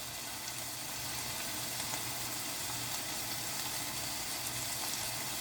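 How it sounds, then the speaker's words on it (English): Food sizzling in oil and sugar as the water cooks off and it caramelizes, a steady dense crackling fry that stays even and close throughout with no talking. "They're starting to sizzle now."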